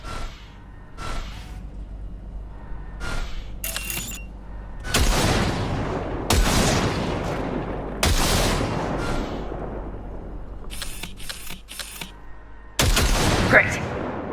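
Gunfire cracks out at a shooting range in the video game Cyberpunk 2077, sharp single shots and short bursts spaced unevenly, loud and close with ringing tails, under occasional quiet talk.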